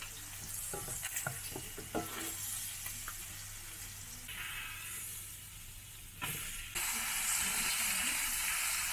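Beef steak fries quietly in a pan, a soft steady hiss with a few light clicks early on, then the sizzle grows louder and brighter toward the end.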